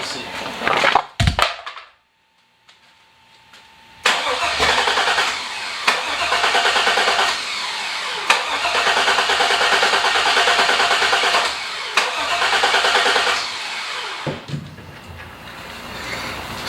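An LS V8 engine cranks repeatedly without catching, the starter churning in several long, steady bursts separated by brief pauses, loud and close, with a short burst of clatter at the start.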